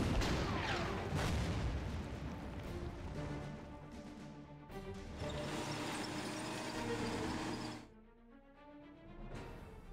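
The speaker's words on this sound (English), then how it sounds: "We will bombard that guy." Artillery bombardment in the World War II strategy game Order of Battle: Blitzkrieg, during an attack on a town: dense, loud rumbling booms and crashes rolling continuously for most of the span, with a brief drop near the end before another burst.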